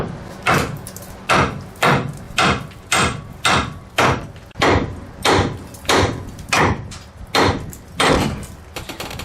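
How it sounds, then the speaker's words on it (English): A hammer strikes the steering arm to free a ball joint on a Chevy Silverado K2500 truck, about a dozen loud, evenly spaced metallic blows, close up with no talking. "we should be able to either hit up on the arm itself or just tap it and it'll come up and out of there"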